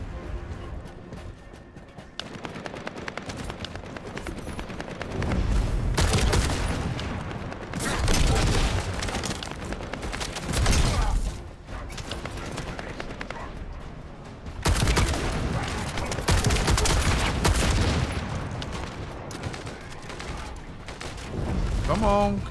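Hand cannon gunfire in the video game The First Descendant, bursts of repeated shots and impacts coming in waves over game sound, with a voice talking at times.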